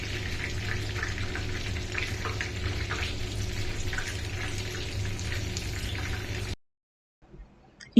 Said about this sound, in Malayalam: ഇപ്പം തിളച്ച എണ്ണയിൽ കിടന്ന് മറിയുന്ന കണ്ടിട്ടില്ലേ